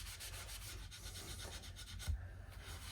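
Soft, steady rubbing as excess finish is wiped off a wooden guitar body by hand, quiet continuous friction strokes at close range with one brief low bump near the end and no talking.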